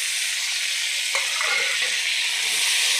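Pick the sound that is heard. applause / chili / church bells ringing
chili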